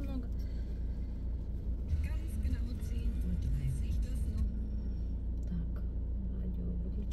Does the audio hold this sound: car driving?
yes